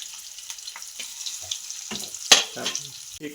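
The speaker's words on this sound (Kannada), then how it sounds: "ಎಣ್ಣೆ ಕಾದ ನಂತರ ಇದಕ್ಕೆ ಜೀರಿಗೆ ಹಾಕೋಬೇಕು ನಂತರ ಈರುಳ್ಳಿ ಹಾಗೆ ಹಸಿಮೆಣಸಿಕೆ" Cumin, onion and green chili fry in hot oil, giving an uneven sizzle with scattered crackles and a few sharp stirring clatters close by across a few seconds.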